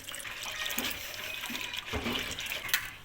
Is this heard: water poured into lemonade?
yes